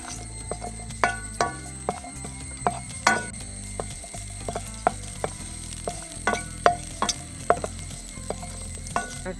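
Garlic and fenugreek seeds frying in hot oil for a bhindi roast, a steady soft sizzle with scattered sharp pops and clicks, along with a faint continuous hum in the background.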